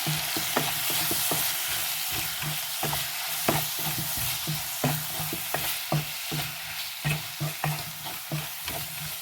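A spoon stirs turmeric into a frying potato, tomato and chilli curry in a pan, with repeated scraping strokes over a steady, continuous sizzle.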